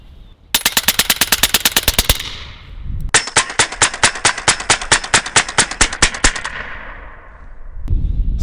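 A .30 caliber Western Sidewinder air rifle fires pellets at a cinder block in rapid automatic bursts, a fast string of loud sharp reports, a short pause, then a second longer string, with no talking.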